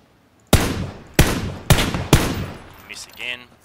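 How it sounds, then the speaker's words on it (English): Gunfire in PUBG, heard as four loud, sharp shots spaced roughly half a second apart, each with a short decaying tail, followed by fainter game sounds. "Someone else shooting as well, or is it just him? Just him. I'm shooting at him."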